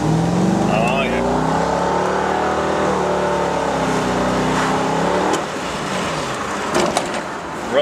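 Engine of a 1998 Chevrolet Corvette C5 convertible runs steadily and loud up close, a deep continuous drone with shifting pitch that eases near the end as a few light knocks and handling sounds intrude.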